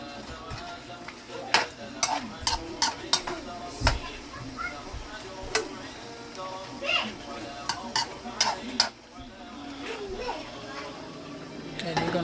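Steak and cheese filling being stirred in a frying pan, a soft sizzle underneath with a string of sharp utensil clicks and scrapes against the pan, moderately close, with a voice talking over parts of it.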